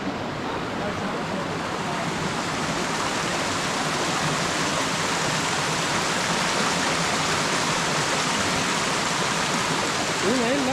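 Rushing river water flows steadily throughout, a constant broad hiss and murmur, with a faint voice briefly near the end, in Hawaii.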